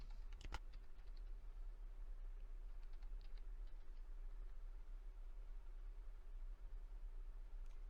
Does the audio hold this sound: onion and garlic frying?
no